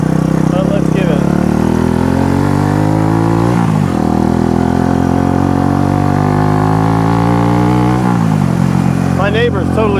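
A vintage Honda CB125 cafe racer's small engine revs hard nearby, loud and buzzy, climbing and falling in pitch through several throttle blips with a sharp drop around the middle.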